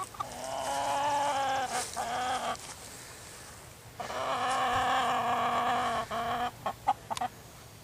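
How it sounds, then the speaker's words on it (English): Chickens in a raised coop on a colonial farm cluck and squawk close by in two long drawn-out bursts, followed by a few short clucks. "And here are the chickens."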